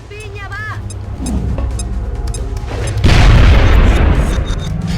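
A grenade explosion in XCOM Enemy Within with the Long War mod: a loud, sudden blast midway that rumbles on for a couple of seconds, following game sounds and a voice talking.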